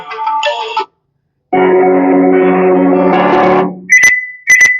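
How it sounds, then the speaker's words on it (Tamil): A NU Republic Music Box 10 Bluetooth speaker turned up to full volume sounds its tones: a short chime, a pause, a sustained buzzy tone, then two sharp high beeps at maximum level. "இந்த மாதிரி கேட்டுச்சுன்னா ஃபுல் சவுண்ட் ஆயிடுச்சுன்னு அர்த்தம்."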